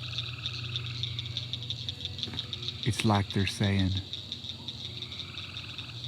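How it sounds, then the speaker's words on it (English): Frogs croak loudly in a chorus outdoors at dusk before a storm, a steady rhythmic trilling layered with insect buzz, while someone talks over it. "You hear them frogs?"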